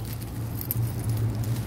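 Keys jangle with light, scattered metallic clinks inside a car stuck in traffic, heard alone over a steady low engine hum.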